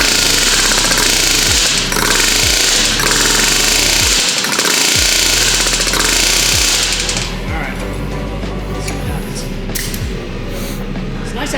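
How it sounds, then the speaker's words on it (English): An air hammer working in a race car shop, firing in repeated short rapid bursts, loud and close, with a steady machine hum beneath and shop noise in the gaps. "Nice having an air hammer where the trigger doesn't stick."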